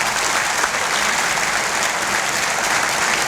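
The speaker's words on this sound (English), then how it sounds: "How about giving all of them a big round of applause?" A banquet audience at an athletic hall of fame induction gives a big round of applause, thick sustained clapping filling the room evenly for several seconds without a break.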